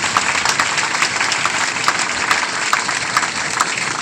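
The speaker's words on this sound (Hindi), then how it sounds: "ताली बजा के उनका स्वागत करें" Protest crowd applauds to welcome visiting khap leaders, a steady wash of many hands clapping at moderate distance throughout, unbroken and even.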